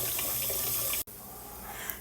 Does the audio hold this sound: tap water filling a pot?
yes